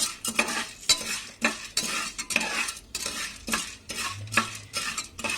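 Corn kernels frying in oil in a pan for homemade popcorn while being stirred with a utensil, with close, rhythmic scraping strokes repeating about once per second over a soft sizzle.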